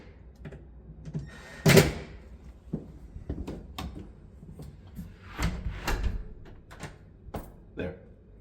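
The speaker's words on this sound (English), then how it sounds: "just to the first click, the deadbolt will work" An exterior house door being pushed shut onto an adjusted strike plate, with a sharp knock and the deadbolt latch clicking, followed by scattered softer thuds and handling clicks, close and fairly quiet, no speech.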